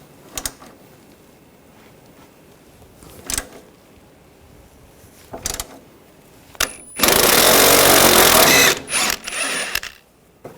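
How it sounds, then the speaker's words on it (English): 12mm socket wrench removing a bolt on a 2004-2009 Toyota Prius: scattered light clicks, then a loud, sustained burst of rapid ratcheting up close. "Remove this bracket, use a 12mm socket, take this bolt out."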